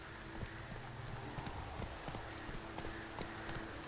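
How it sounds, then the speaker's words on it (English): Hoofbeats of a horse galloping in the video game The Witcher 3: Wild Hunt, a steady rhythmic clip-clop of hooves repeating close and clear over a constant background bed. "Run, Roach"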